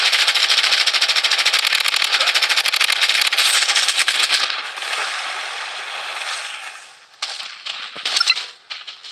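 Gunfire in the shooter game Blood Strike, with a loud rapid burst of automatic fire for several seconds that drops to quieter, scattered shots and clinks.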